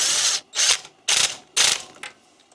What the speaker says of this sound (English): Hit it with the impact.